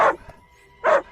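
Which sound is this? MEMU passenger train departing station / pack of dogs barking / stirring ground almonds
pack of dogs barking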